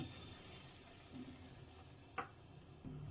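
Oil sizzles quietly on a hot tawa while jackfruit obbattu is being made, a faint crackle broken by one sharp utensil tap near the middle.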